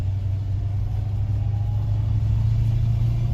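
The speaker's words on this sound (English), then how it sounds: "this is another city truck, I'll let him go by me" A city truck rolls past close by, a steady low engine rumble and road noise holding evenly throughout with no break.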